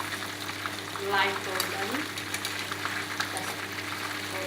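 Chicken pieces stir-fried in hot oil for orange chicken, a steady close sizzle and crackle with occasional scraping stirs, while a person talks briefly over the cooking.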